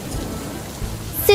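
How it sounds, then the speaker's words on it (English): A few raindrops fall from a fading cartoon cloud as a soft, steady patter of rain on a surface, close and moderately loud for just over a second, ending with a brief bright tone. "leaving a few raindrops behind as a goodbye."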